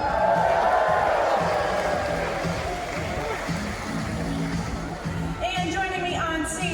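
A dolphin show audience at the Georgia Aquarium cheers and applauds in a broad, steady roar of crowd noise and whoops, loud from the start and easing slightly later on.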